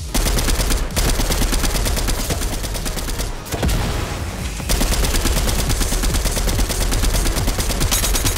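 Rapid automatic gunfire sprays the player in the Fortnite video game, a loud, continuous burst of shots that runs almost unbroken, with a short lull partway through.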